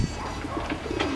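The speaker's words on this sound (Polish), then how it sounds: "A gołębie tylko słychać." Pigeons coo in low, soft repeated murmurs along the Bronowicka Młynówka stream in Kraków, a steady outdoor burble with no talking.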